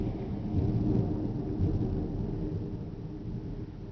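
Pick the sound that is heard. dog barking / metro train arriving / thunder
thunder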